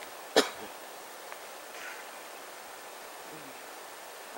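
A single sharp cough or throat clear from a person out in cold, dry night air, close and brief near the start, followed by faint background hiss and quiet.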